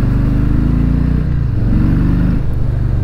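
A 2019 Harley-Davidson Low Rider 107 motorcycle rumbles loud and steady on a test ride, its deep V-twin engine note shifting pitch as the rider rolls the throttle on and off, with no talk over it.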